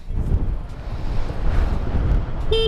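Strong wind rushes into the microphone while riding a Honda Click 150 scooter, a loud, steady buffeting roar with a brief tonal beep near the end.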